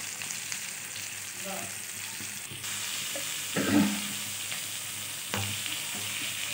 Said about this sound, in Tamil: மீன் போட்ட பிறகு நம்ம சுற்றியும் எண்ணெய் விட்டுட்டு ஒரு சைடு வெந்த பிறகு இன்னொரு சைடு திருப்பி போட வேண்டியதுதான்.